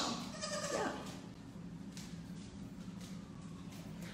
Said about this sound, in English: Goats sound like they're screaming for ma.